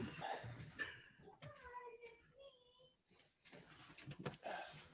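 Pet dogs whimper and whine with thin rising cries as their owner arrives home, mixed with scuffling and quieter background talk, fairly close but soft.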